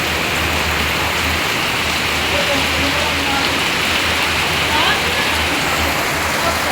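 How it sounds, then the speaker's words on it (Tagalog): Dense, continuous downpour hissing and pattering on surfaces, loud and unbroken, with a low rumble beneath. "Ang lakas ng ulan."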